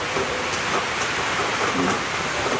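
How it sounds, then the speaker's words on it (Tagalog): Steady rain falls over a rural area near rice paddies, a dense even hiss with no breaks, loud and close throughout. "Ulan. Ito yung gusto ko talaga."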